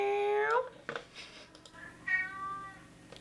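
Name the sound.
squeezed cat toy meowing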